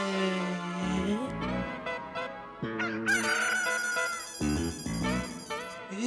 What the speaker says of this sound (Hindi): ये मुर्गे की आवाज तो इस फोन में से आ रही है।